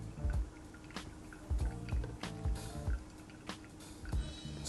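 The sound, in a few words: coffee draining through a pour-over filter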